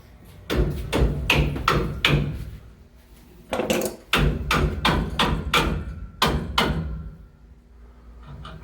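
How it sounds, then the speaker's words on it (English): Metal-on-metal hammering on a stuck ball valve in old galvanized plumbing, three loud bursts of rapid repeated blows, each run of several sharp strikes separated by short pauses, close by. "If you hear that hammering, that's the ball valve he's having to hammer open."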